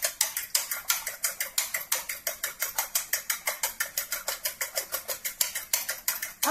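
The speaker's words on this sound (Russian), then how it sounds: "Быстренько это взбиваем." A single egg is beaten briskly in a bowl for a chicken fillet dish, making rapid, evenly spaced clinking strokes, close and steady, with no talk.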